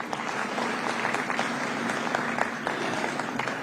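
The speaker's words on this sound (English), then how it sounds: "can we give them another round of applause?" An audience applauds a panel at a high-level economic growth forum, the clapping steady and sustained throughout at moderate loudness with no talk over it.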